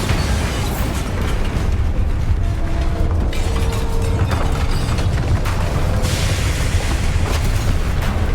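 A Bombarda spell in the video game Hogwarts Legacy sets off a loud, sustained booming blast, a dense rumbling roar across several seconds with a brighter crackling surge near the end, unbroken by talking.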